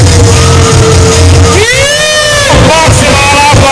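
A crowd at a stunt riding show in Latvia shouts and whoops loudly, a dense roar of voices with rising whistle-like tones cutting through, heard up close.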